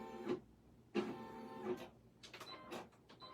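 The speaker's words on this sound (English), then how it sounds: "now we're going to run the final placement, or the final outline stitch at the same time" An embroidery machine stitching the final outline of a sports ball split appliqué runs in a few short mechanical bursts, nearby and moderately loud, with no talking.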